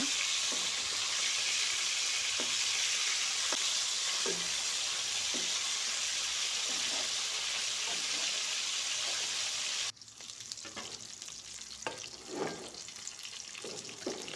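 Shapla fish frying in hot oil, a dense loud sizzle with periodic utensil taps, then dropping to quieter crackling and clatter of turning and stirring.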